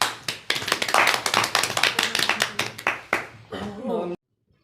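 Applause from a Punjabi mushaira audience, a dense run of hand clapping that swells and ebbs for about four seconds before cutting off abruptly into silence.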